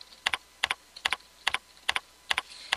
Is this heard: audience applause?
no